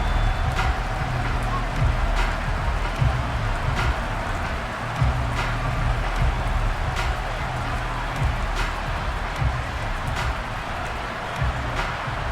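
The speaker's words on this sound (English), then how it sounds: "The rain set to continue as we are underway in the second half." Steady rain hisses down across a stadium during a Madden NFL 23 football game, a dense continuous wash with faint crowd rumble beneath and occasional soft thumps, with no clear voices over it.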